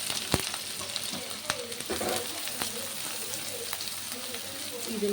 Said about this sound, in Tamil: இது நல்லா கோல்டன் பிங்க் கலரில் வர வரைக்கும் ஃப்ரை பண்ணிக்கிறேன்.